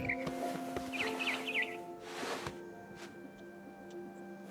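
A barn swallow chirps in What Remains of Edith Finch, three quick high twittering calls over a soft steady hum, followed by a short rustle and a few faint tonal blips.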